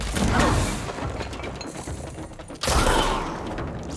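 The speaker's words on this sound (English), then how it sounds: "What you shooting at? You shooting at me?" Gunfire in the video game Control, two loud bursts of crackling, crashing shots close by, split by a short lull with lighter debris and mechanical clatter.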